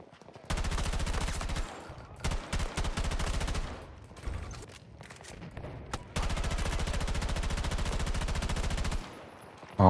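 Rapid automatic fire from an AM40 rifle in a video game, long sustained bursts close and loud, broken by short pauses and a quieter stretch before a second extended volley.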